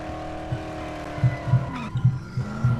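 A battered, barely running car drives in the video game Dead Island, with a steady engine drone joined by repeated short thuds and bumps that knock irregularly as it rattles along.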